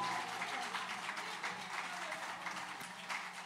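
Audience applause at a concert, a dense wash of many hands clapping at moderate distance, fairly even with a faint murmur.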